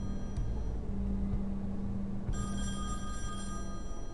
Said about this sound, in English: I think it's the phone.